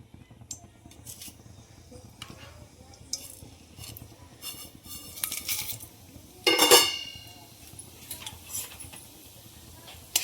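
Whole spices dropped into hot oil in a pan while making veg biryani, giving faint crackles and light metallic scrapes, with one louder clatter midway against a quiet background.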